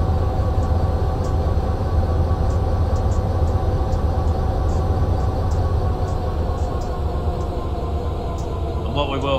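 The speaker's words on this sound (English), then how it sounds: "let's get some power applied to the EMD SD60 and proceed forwards then." EMD SD60 diesel locomotive in Canadian Pacific livery pulling forward through Canadian mountain passes in Train Simulator Classic, a loud steady engine rumble with rail noise and faint periodic clicks.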